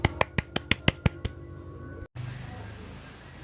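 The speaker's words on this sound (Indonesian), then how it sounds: "Mari beri tepuk tangan untuk kelompok 2" A classroom claps for a student group: a fast, even run of about eight sharp claps, fairly faint, followed by a quiet room.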